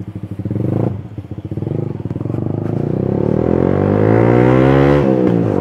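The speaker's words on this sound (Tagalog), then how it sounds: "So maingay yung muffler at the same time yung wind noise." A loud motorcycle engine drones steadily at speed, its exhaust note rising and holding, with rushing wind noise blended throughout.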